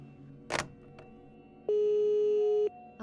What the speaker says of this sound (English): A click and a long dial tone greeted my eardrum